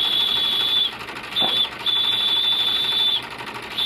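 A small steam engine runs close by with a steady mechanical chugging and a high, thin whine that cuts out briefly twice before resuming.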